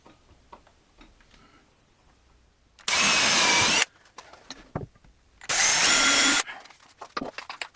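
A power drill pre-drills holes in wood for a gear storage build, two loud bursts of about a second each, separated by quiet handling clicks and taps.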